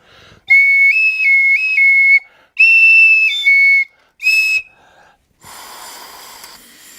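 A shrill toy whistle is blown in several short bursts, its pitch stepping up and down, followed by a breathy hiss of air.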